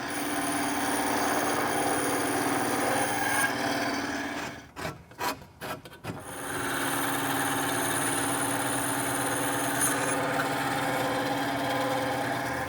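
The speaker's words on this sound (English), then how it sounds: "I'm going to spend a little bit of time in front of that bandsaw" Bandsaw cutting costume armor foam: a steady, close whirring drone that dips into a few brief stuttering gaps midway, then resumes evenly to the end, with no voices.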